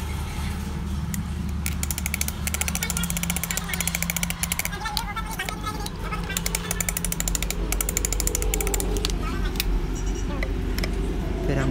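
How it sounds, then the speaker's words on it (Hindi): A piston being tapped with a piece of wood down through a tightened ring compressor into the oiled cylinder of a Tata Ace Gold BS6 engine during an overhaul, with light repeated knocks amid workshop clatter. "फिर हम लकड़ी की मदद से हम इसे हल्का सा ठोक लेना है।"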